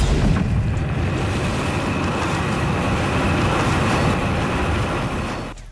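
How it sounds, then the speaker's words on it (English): A finished sci-fi spaceman flamethrower effect, compressed and saturated, blasts as a loud, continuous roaring whoosh that holds steady for several seconds before tapering off at the end. "you've got yourself a pretty cool little spaceman flamethrower"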